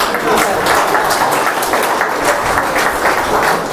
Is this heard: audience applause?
yes